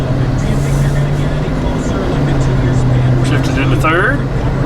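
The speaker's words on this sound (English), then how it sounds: "Let's see if we have more than one gear. Hey, shifted in second." A Dodge Magnum engine drones steadily as the car accelerates and shifts into second gear, a low hum under a voice talking close by.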